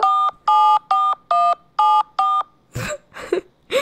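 Six steady touch-tone dialing beeps in a regular rhythm from a phone placing a call, loud and close, followed by a few short louder electronic bursts and no talk.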